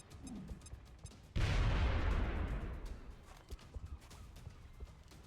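A grenade blast in the Long War strategy game, one sudden loud booming explosion that rolls and decays over a few seconds into faint settling debris, with no voices.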